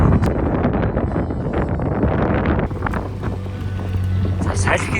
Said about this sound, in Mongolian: салхи ихтэй машиныхаа ард салхид суугаад яваад байна да